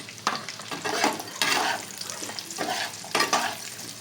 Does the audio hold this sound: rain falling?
no